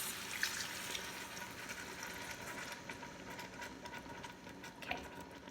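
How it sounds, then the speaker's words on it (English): Sauce pours into an Instant Pot while making lemon chicken, a faint, steady liquid trickle with light mechanical clicks and a couple of soft knocks, no talking. "is pour in my sauce"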